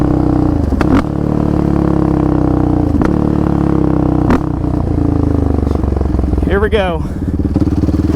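A Big 5 Raptor engine runs loud and steady throughout, revving as it pulls up through the gears with brief dips at each shift and a rising whine near the end; someone speaks briefly over it.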